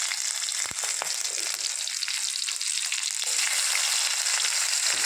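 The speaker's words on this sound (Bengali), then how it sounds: "কাঁচা লঙ্কা নিয়ে নিলাম, গোটা জিরে দিলাম" Green chilies and whole cumin seeds frying in hot oil, making a dense, even sizzle with a few sharp pops, close and steady throughout with no voices.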